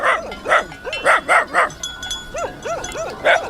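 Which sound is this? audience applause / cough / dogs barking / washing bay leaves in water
dogs barking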